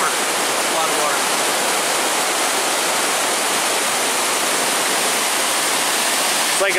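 Hull's Creek Falls pours a heavy late-November flow, making a dense, steady roar of rushing water that stays close and constant with no pauses.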